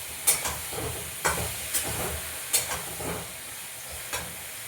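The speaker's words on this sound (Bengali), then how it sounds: "এবার আমি ভালো করে কষিয়ে নেবো" Spice paste for a Bengali fish curry sautéing in oil in a pan, a steady sizzle under repeated sharp scrapes and knocks of a spatula stirring it, close and moderately loud.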